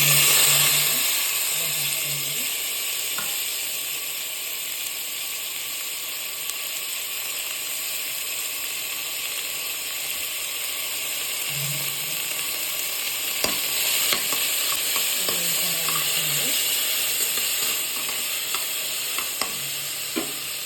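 Vegetables with tomato, onion and chili fry steadily in a pan after a mustard seed and chana dal tempering, a continuous close sizzle with occasional stirring scrapes and clicks, no voices.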